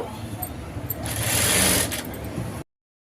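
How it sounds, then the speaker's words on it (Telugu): A sewing machine stitches the lining of a work blouse with loose joining stitches, a steady mid-level whirring run that swells in the middle and cuts off abruptly, with someone speaking in Telugu over it. "లైనింగ్ మొత్తం జాయింట్ చేసుకోవాలండి ఇలా జాయింట్ చేసుకునేటప్పుడు లూజ్ కుట్టు పెట్టుకుంటే సరిపోయిద్ది"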